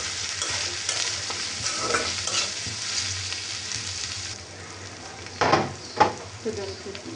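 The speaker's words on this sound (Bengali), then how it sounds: "কপিটা আমি হালকা তেলের মধ্যে ভেজে নেওয়ার পর" Cauliflower frying in a little oil for vegetable noodles, a steady close sizzle with scraping stir strokes, a few sharper spatula scrapes and clacks near the end.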